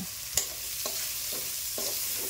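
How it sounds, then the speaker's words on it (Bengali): Chopped onion and garlic fry in a pan with a steady close sizzle, broken by four evenly spaced scrapes or taps of a spatula stirring, with no talking. "পেঁয়াজ রসুন আরও কিছুক্ষণ ভাজবো।"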